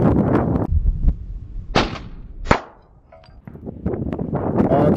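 Two sharp, loud cracks from an SKS Yugo rifle shooting at a propane can 500 yards away, separated by a quiet stretch, with muffled handling noise before and after.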